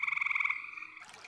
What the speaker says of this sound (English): male frogs manage to produce their mating croak, a honking cacophony that no female can resist